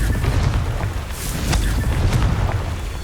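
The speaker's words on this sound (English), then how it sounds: "Confringo!" A fiery explosion spell blasting in the Hogwarts Legacy video game, a loud, sustained booming rumble with crackling debris, filling the short moment without any voice.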